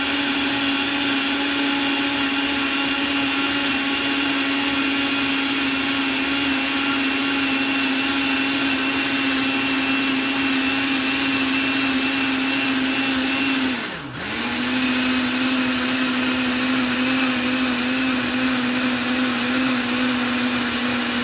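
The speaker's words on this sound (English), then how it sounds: "As you can see, the sound of the blender changed, which means that the mixture is getting thicker." A blender runs steadily at a loud, even whine while mixing cake and chocolate pudding, with one brief dip in pitch partway through before it resumes at full speed, with no voices.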